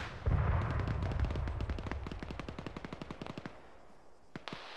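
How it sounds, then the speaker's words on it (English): A .50 caliber machine gun fires in a video game, a long rapid burst of evenly spaced shots, followed by a few separate rounds after a pause. "We're being shot at by a 50 cal, buried distance out somewhere."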